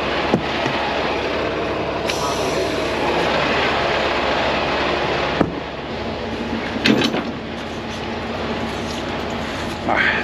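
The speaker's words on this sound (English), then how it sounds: "now I can put some air in the trailer" Air fills the brake system of a truck's tanker trailer with a loud, steady, broadband hiss and rush that runs throughout, punctuated by a few sharp clicks and knocks.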